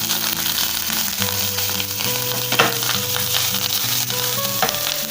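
Curry leaves frying in a pan with popped mustard seeds, giving a loud, steady crackling sizzle with sharp spits and pops throughout.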